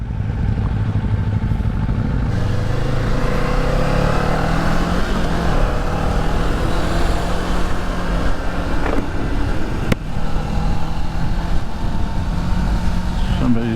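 A 2024 Kawasaki Ninja 500 motorcycle accelerates with a steady, loud engine drone that rises in pitch through the gears. Wind noise is present throughout and a voice comes in briefly.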